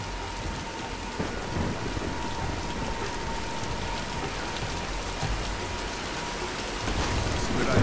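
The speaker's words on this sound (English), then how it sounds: "let's wait out the storm" Steady heavy rain pours down in a thunderstorm in the video game Tomb Raider Definitive Edition, a dense constant hiss with low rumbling thunder underneath and a slight swell toward the end.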